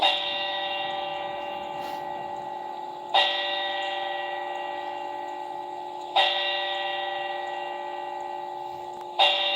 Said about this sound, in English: So now you have 4 bells that ring.